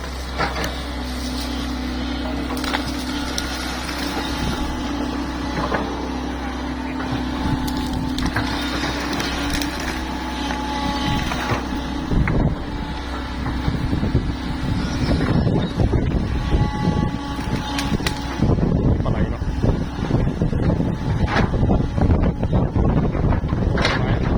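Old SANY SY135C excavator digging hard soil while dredging an old pond, its engine a steady low drone with scraping, crunching bucket bites growing louder and busier in the second half, wind buffeting the microphone.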